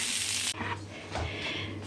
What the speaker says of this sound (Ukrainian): на малесенькому, малесенькому, мінімальному вогні смажу я омлетик, щоб він був рум'яненький